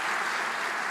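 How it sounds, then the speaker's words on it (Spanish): Brief burst of congregation applause inside a church service, a steady dense clatter of many hands lasting about a second. "Démosle un aplauso para que se sienta ahí potente"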